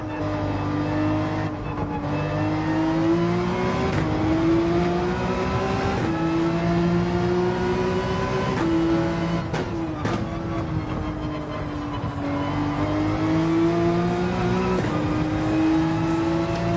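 A race car engine in Gran Turismo 7 drones loud and close throughout, rising and falling in pitch through repeated gear shifts and revving, with brief tire squeal.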